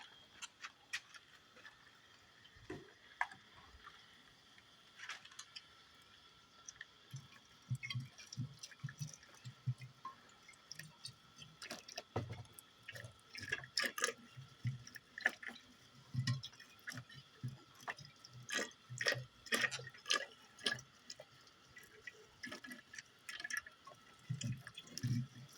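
Hot boiling water is poured into soda bottles to sterilize them, giving faint, intermittent splashing, trickling and dripping that grows busier toward the end.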